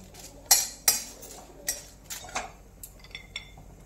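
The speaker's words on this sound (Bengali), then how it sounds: "প্রথমে কয়েকটা শুকনো লঙ্কা দিলাম, এটা একটু নেড়ে নেওয়ার পরে বাকি মশলাগুলো দেবো" Dry red chillies stirred in a pan for a ground spice mix, heard as sharp metallic clinks and scrapes of a utensil against the pan, a few distinct knocks spaced apart, close and fairly quiet.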